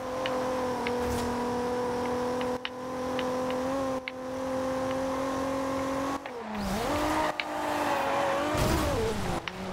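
Racing car engine from the video game Forza Horizon 2, a steady loud harmonic drone that holds pitch for several seconds, then dips and wavers through gear changes and bumps, with tire noise and short clicks, no talking.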